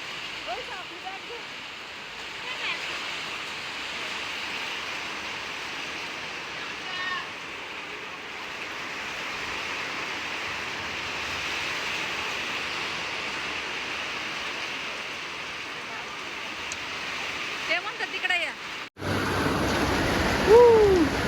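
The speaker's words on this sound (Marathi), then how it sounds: "खूप जोराचा पाऊस आलाय" Heavy monsoon rain pours down steadily in a broad, even hiss, heard from a shelter beside a village road. Near the end the downpour grows louder and closer.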